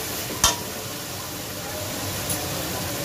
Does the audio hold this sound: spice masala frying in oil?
yes